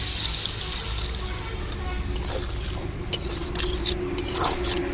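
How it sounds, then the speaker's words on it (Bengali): Water left over from grinding spices is poured into a cooking vegetarian pointed gourd and fennel curry, giving a close, steady splashing pour that runs for a few seconds with faint clinks. "মশলা বেটে রাখা আর একটু জল ছিল, সেটা আগে দিয়ে দেবো"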